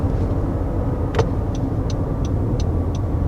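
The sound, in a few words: 2021 Honda CR-V engine driving at high speed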